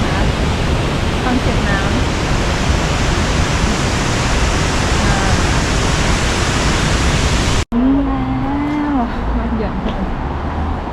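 Dense, steady roar of a man-made waterfall in Kunming, Yunnan, close by, loud and unbroken, then a sudden cut to quieter water with a voice speaking over it.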